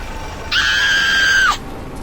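A single sustained scream from Bioshock, set in the underwater city of Rapture, holding one steady pitch for about a second, loud and alone against quiet ambient background.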